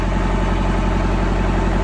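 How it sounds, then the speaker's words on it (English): An old farm tractor engine, about 35 years past its rebuild, idles on a cold day while warming up, a loud, steady, rumbling chug that continues evenly, close by and with no talk. "It's on the tractor we farmed with. The thing's got probably 35 years on the engine rebuild, so anyway, it'll warm on up here in a minute."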